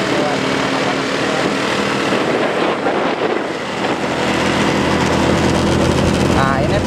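A motorcycle engine labours up a steep mountain road through Cijapati, between Garut Leles and Majalaya, with a bike that seems to be ailing. It is a continuous, loud, close drone with steady harmonics, and speech mixes in over it.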